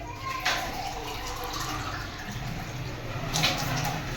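Water is poured into a pot of desi chicken with whole spices, a continuous rushing pour with a couple of brief splashy surges, moderately close and steady.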